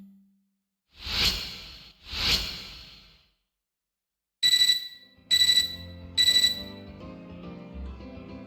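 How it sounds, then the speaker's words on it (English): A ringing tone from an in-game terminal in the video game Fate/Extra, three short bright electronic chimes in even succession that follow two soft whooshes, with quiet game music fading in beneath. "an all too familiar ringing tone draws my eyes to my terminal"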